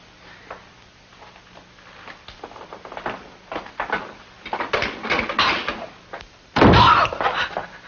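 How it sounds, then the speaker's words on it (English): A cellar door slams shut with a loud, sharp bang late on, preceded by scattered knocks, shuffling and creaks in an old drama soundtrack. "The cellar door shut."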